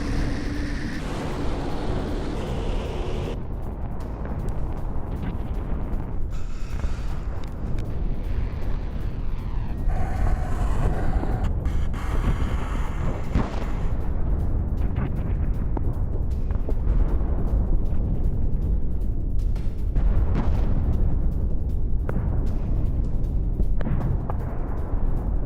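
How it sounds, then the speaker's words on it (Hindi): Houthi hypersonic missile attack explosions roll on as a continuous heavy rumble with repeated blasts and booming bursts throughout, loud and dense with no voices heard. "हुती ने हाइपरसोनिक मिसाइल हमले का वीडियो जारी किया"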